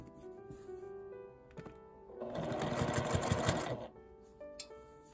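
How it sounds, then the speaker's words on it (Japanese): A home sewing machine runs a short burst of edge stitching on a fabric wallet bag, a quiet rapid mechanical whir with faint clicks and handling noises before and after. "開いて端ミシンをかけます。"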